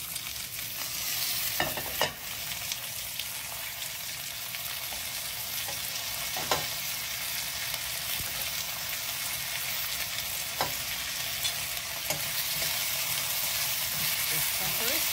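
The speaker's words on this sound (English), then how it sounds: "Add your onions, garlic, and curry leaves." Onions, garlic and curry leaves frying in hot oil for a coconut milk dhal curry, a steady loud sizzle throughout with occasional stirring knocks.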